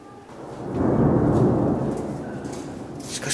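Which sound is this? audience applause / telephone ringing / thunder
thunder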